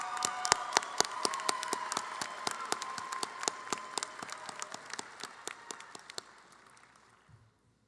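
A crowd at a university commencement ceremony claps, with many individual hand claps audible over a broad patter that gradually thins and fades to silence over several seconds.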